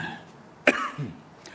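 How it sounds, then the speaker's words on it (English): A single sharp, close cough bursts out, followed by a softer throat-clearing rasp and another faint catch in a quiet room. "this little tickle cough is still here."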